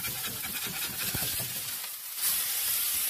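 A smash burger patty sizzles on a hot griddle just after being flipped, with steady frying hiss and a few scraping clicks, loud and close, no voices.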